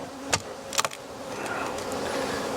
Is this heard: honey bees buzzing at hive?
yes